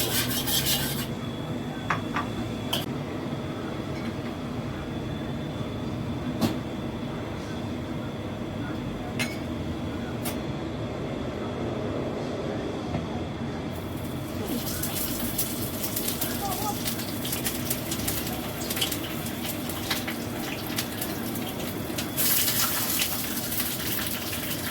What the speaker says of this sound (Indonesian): Lanjut saya mau goreng cabai.